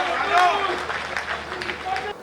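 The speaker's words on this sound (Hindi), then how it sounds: "दोनों हाथ उठाए, जोरदार तालियां बजाए" Applause from the audience at a Hindi comic poetry gathering, mixed with voices and a held tone, fairly loud, then fading.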